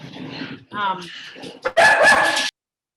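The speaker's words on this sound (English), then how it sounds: "dog's barking" A dog barks in a home during an online meeting: a short, harsh burst of barking that comes right after a person speaks, loud and close.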